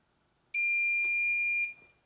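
Electronic battery-management-system alarm on a home-built 230Ah battery pack: one loud, sustained high-pitched beep lasting about a second, then a brief faint chirp, with no talking.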